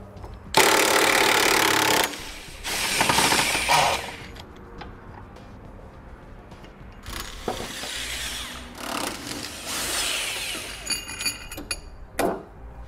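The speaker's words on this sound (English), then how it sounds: "Now I'm going to be using a 21mm socket to remove the bolts." A 21mm socket on a ratchet or impact tool removes bolts from a 2016 GMC Sierra 1500 pickup; loud, close bursts of rattling mechanical noise with pauses and metallic clinks between them.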